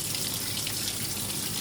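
A Simpson Enduro 701 washing machine fills with water in a steady, loud hiss and gush, a continuous rush heard alone.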